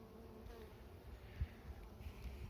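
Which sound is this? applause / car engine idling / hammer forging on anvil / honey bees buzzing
honey bees buzzing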